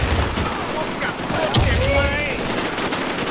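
Gunfire in the online zombie survival shooter WarZ, with several rapid shots in quick bursts mixed into constant in-game ambience and low rumble.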